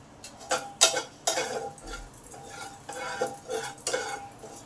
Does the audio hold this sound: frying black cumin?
yes